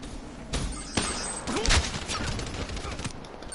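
Rapid bursts of SMG fire in a video game crackle through a busy, noisy mix, with sharp volleys around the middle and steady clatter underneath, heard fairly close.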